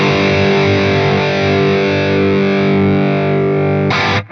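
Distorted electric guitar through an Axe-Fx III amp model with the room level parameter cranked up, a sustained, thick, saturated chord ringing loud and steady before a brief scratchy strum at the end.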